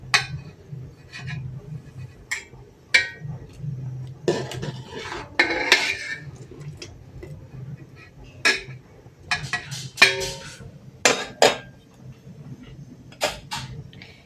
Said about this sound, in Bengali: তারপর ঢাকনিটা খুলেছি, এবারে দেখে নেবো চালটা কতটা সিদ্ধ হয়েছে।